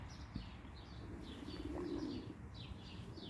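Young homing pigeons coo in low, soft rolling notes while sharper chirps repeat above them, close by, with a brief rustle of wings near the start.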